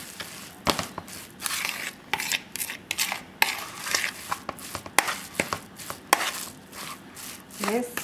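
Raw vegetarian burger mixture of chia, onion and parsley being mashed and worked by hand, giving soft irregular squishing thumps and occasional dish clatter at close range, with no talking.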